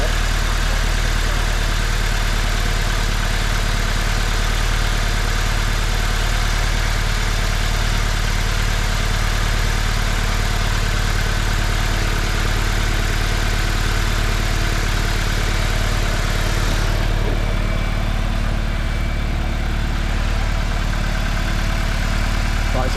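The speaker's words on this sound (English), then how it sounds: "making sure the engine is running okay" A BMW N46 four-cylinder Valvetronic engine idles steadily after replacement, with a low, continuous hum and faint mechanical vibration, constant throughout with a slight drop in upper noise near the end.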